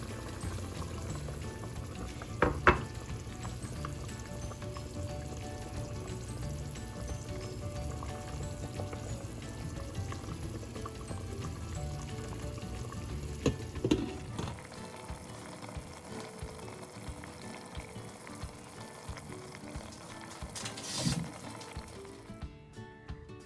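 Pork ribs adobo bubble and sizzle in a pan after vinegar is added, a continuous close frying and boiling hiss with occasional louder pops and splashes, easing slightly partway through.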